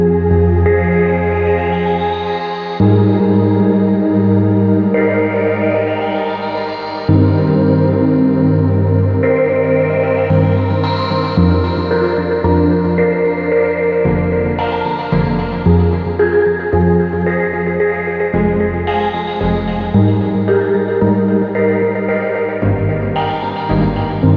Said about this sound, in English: Now to show you the difference between pulse, chop, and flow, I'll just switch them on this patch and see what happens.